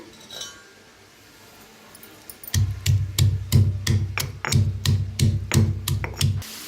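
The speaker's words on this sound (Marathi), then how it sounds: "तर इथे एक खलबत्ता घेतलाय, पहिला आपण कुटून घेऊया" Green chillies, ginger and garlic are crushed in a mortar and pestle, a steady run of loud, close, rhythmic thuds with a hard clinking edge, about two strikes per second after a quiet start, with no voices.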